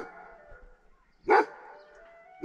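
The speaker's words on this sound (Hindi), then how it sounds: "पता नहीं किसके लिए भौंक रहा है।" A dog barks from the floor below: an opening bark trailing into a whine, then two sharp, loud barks separated by quiet.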